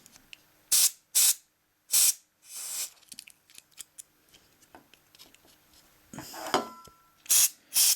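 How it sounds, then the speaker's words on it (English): Cockpit shine silicone lubricant sprayed into a game controller's analog thumb sticks in short, loud hissing bursts, several squirts separated by quieter handling and rubbing noises. "you want to get yourself some cockpit shine, which is basically silicone lubricant. Give that a good old squirt in there."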